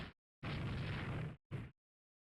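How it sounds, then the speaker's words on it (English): A torpedo strikes a ship in the naval strategy game Rule the Waves 3, giving a burst of blast noise, a longer rumbling explosion and a short final bang, each clipped off by silence, with no voices. "We got hit by a torpedo?"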